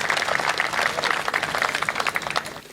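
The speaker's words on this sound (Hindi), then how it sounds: "एक बार आप तालियां बजा दीजिए" Audience applause at a Hindi poetry recital, a dense wash of many hands clapping at moderate distance that fades unevenly toward the end.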